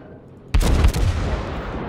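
Naval gunfire and incoming heavy shells from a Tirpitz battleship in World of Warships: a sudden deep boom bursts in after a quiet moment, followed by a rolling, rumbling blast that slowly fades.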